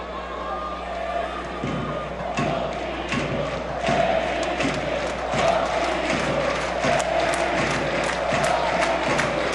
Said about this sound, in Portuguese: E o torcedor do Vasco aplaudindo porque vai sair o Felipe Coutinho.